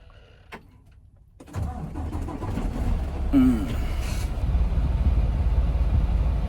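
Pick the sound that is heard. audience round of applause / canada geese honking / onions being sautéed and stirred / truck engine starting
truck engine starting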